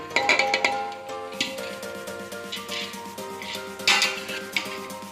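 Cooked rice is tipped into a pot for Arabian prawn biryani, with spoon clinks and clattering against the metal pot in short bursts.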